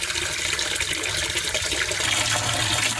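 Water drains steadily from a boiler into a bucket, a continuous loud splashing and gushing heard close by.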